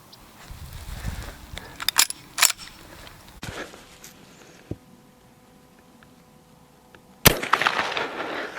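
A vintage rifle fired at a target outdoors: several sharp, distant cracks spaced apart, with a burst of noisy rustling near the end.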